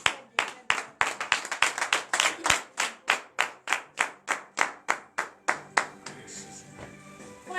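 A congregation at a Friday morning prayer service in Comè, Benin, claps in fast, steady unison, about twenty sharp, close claps in a regular beat that give way after six seconds to a softer murmur.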